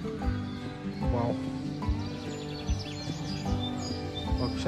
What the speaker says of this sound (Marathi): पक्ष्यांचा किलबिलाट तुम्हाला ऐकू येतोय की नाही माहिती नाही